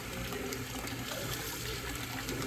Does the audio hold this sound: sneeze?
no